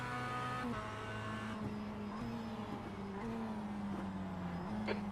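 A Mazda MX-5 Cup race car drones past during a race, engine tone shifting and sliding as it runs alongside, moderately loud and steady with no talk over it.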